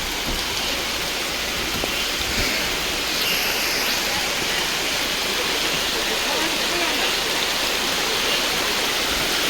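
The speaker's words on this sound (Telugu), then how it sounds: "వర్షం ఫుల్గా పడుతుంది." Heavy rain pours down near Mattighatta waterfall, a loud, unbroken roar of water hitting the ground close by, with voices faintly underneath.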